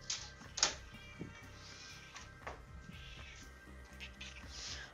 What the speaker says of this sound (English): feed the cat so that she's not yelling at me the entire show